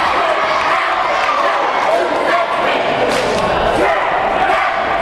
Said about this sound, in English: A couple of large cheering squads providing a lot of noise for their respective teams